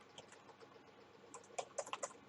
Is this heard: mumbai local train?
no